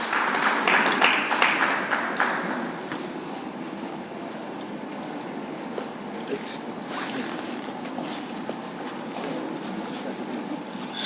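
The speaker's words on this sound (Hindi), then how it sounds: "तालियों से स्वागत करें मंत्री महोदय का।" Audience applause welcoming a government minister at the Lalit Kala Akademi foundation day event, a sustained wash of clapping in a hall that swells at first and then settles to a steady level.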